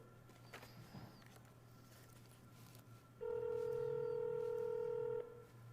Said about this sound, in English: Come, your worship, answer the phone.